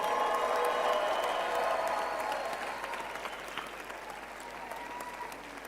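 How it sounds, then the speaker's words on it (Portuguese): Applause from a large church meeting audience in Cape Town, broad and steady, loudest at the start and gradually thinning and fading toward the end. "Pensei que você estivesse aplaudindo minha mensagem"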